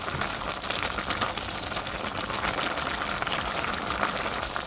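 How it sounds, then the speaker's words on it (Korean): A soy braise of quail eggs with halved shishito and green and red chili peppers simmers over medium-high heat, giving a faint, continuous soft bubbling and sizzle with no talking. "반으로 자른 꽈리고추, 청홍고추를 넣은 후 중강불에서 3분 더 졸여주세요"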